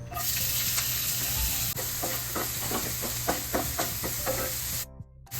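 Chopped onions, garlic, ginger, green chili and curry leaves fry in coconut oil in a pan, giving a steady close sizzle broken by rhythmic scrapes and taps of stirring, then a brief lull near the end.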